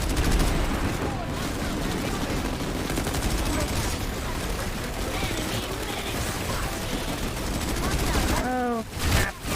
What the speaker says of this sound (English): Jaguar's better for just kind of close range